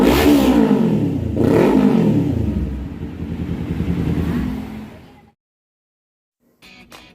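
A Kawasaki Z400 inline-four motorcycle engine revs hard and close, rising and falling in a few loud sweeps before cutting to silence, then a brief faint rattle.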